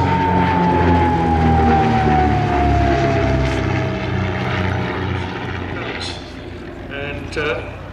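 Vintage propeller aircraft flying past at the Shuttleworth airshow, a loud droning engine with a falling pitch as it passes, while a commentator talks over the sound.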